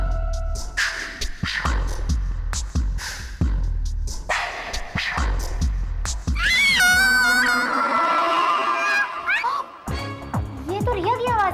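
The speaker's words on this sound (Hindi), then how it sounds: "चिल्ला क्यों रही है?" A girl named Riya screams loudly from another room in a Hindi TV comedy household, a long, high, wavering shriek that rises over earlier talk and thumping footsteps, then gives way to a voice speaking.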